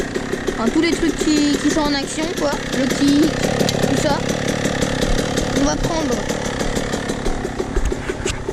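A motocross bike's engine runs steadily nearby, a loud buzzing idle with small revving swells throughout, while someone talks over it.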